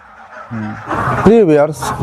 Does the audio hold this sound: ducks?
yes